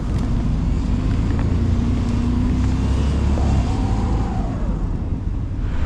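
Chevy Blazer engine revving hard while stuck in snow, a loud continuous low drone held steady throughout, with no one speaking.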